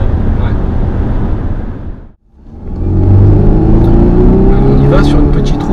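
A 2015 Volvo XC90 T8 400 hp hybrid SUV driving on a small country road, a loud steady engine and road drone inside the cabin that dips briefly and then swells back with a rising engine tone, with someone talking over it.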